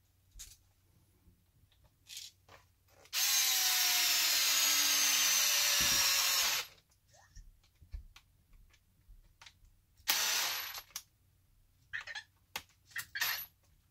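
An electric driver spins screws into a HoBao Hyper SS caged truggy during assembly, one long steady whirring run and a shorter burst later, with scattered clicks and taps of parts between.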